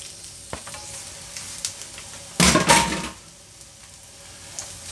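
Chopped onion hits hot oil in a pan with a loud burst of sizzling, a short crackling surge that settles back into quiet kitchen clatter and faint clinks.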